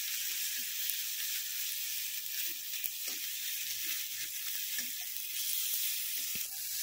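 Chilli powder, turmeric and spices frying in oil for khichuri, giving a steady close sizzle with scattered soft stirring scrapes throughout and no voices.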